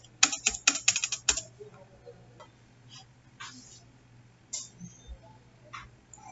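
Quick bursts of keystrokes on a computer keyboard while a username and password are entered, a fast flurry at first and then scattered single taps, faint and close over a low background hum.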